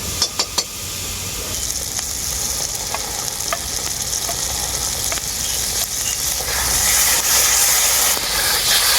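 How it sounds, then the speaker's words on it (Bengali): Sour curd (yogurt) frying with spice masala in a pan for a soybean curry, giving a loud, steady sizzle and hiss that runs unbroken throughout, with faint stirring scrapes and no talking. "এই টক দইটাও আমি খুব সুন্দর করে মশলার সাথে কষিয়ে নেব"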